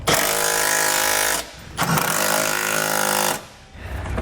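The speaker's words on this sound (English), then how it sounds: "you're going to want to grab a 19mm socket and we can snug it all up" Power tool driving a 19mm socket to snug trailer hitch bolts on a 2019 Nissan Rogue, two loud close rattling bursts of about a second and a half each with a short gap between them.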